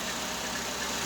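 Suzuki Grand Vitara car engine idling, a steady, even hum held at constant loudness for the full second, with no voices.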